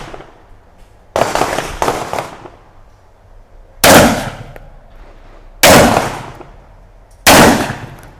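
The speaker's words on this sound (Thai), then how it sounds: "ตัวมอสเบิร์ก940 Pro Tactical นะครับกระบอกนี้นะครับ ด้วยลูก S&D 9 เม็ดนะครับ3นัด" Mossberg 940 Pro Tactical semi-automatic shotgun firing 9-pellet buckshot: a softer early pair of reports, then three loud, sharp blasts spaced about two seconds apart, each with a short ringing decay, close by on an outdoor range.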